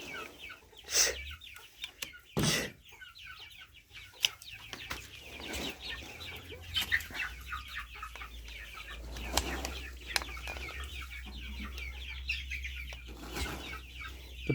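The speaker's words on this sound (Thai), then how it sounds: "มีไก่บ้านด้วยนะ" Hens cluck and murmur faintly in a continuous background chatter, with a few louder squawks and a flutter early on.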